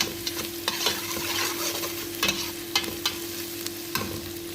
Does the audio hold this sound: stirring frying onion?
yes